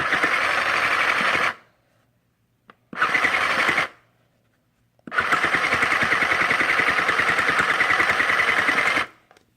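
A sewing machine stitching a small fabric pouch runs in three loud, close bursts of rapid mechanical chatter separated by silent pauses, the last run the longest.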